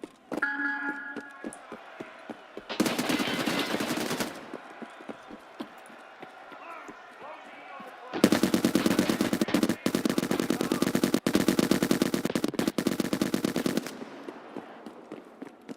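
Rapid automatic rifle fire in the shooter game Escape from Tarkov, a short burst followed after a pause by a long sustained volley emptying a full magazine, loud and close.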